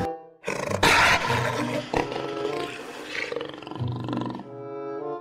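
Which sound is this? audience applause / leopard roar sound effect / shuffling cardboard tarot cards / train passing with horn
leopard roar sound effect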